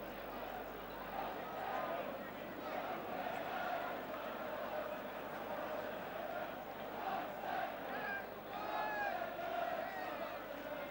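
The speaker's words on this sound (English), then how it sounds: "That's brought the crowd to life." A football crowd at a First Division match between Tottenham and Swansea City roars and cheers after a headed goal, a dense, steady wall of noise that swells and rises in waves, with a commentator speaking over it.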